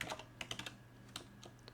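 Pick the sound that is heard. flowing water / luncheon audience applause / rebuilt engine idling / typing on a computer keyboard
typing on a computer keyboard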